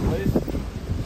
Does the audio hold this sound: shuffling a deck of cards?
no